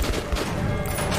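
Rapid gunfire in Metro 2033 on PS4, a dense burst of low, thumping shots packed close together over a steady noisy backdrop, with no talk over it.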